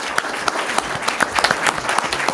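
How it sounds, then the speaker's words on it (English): An audience at a candidates' night event claps for the candidates, a short burst of dense applause from a crowd in a hall, close and fairly loud. "How about a round of applause for these candidates?"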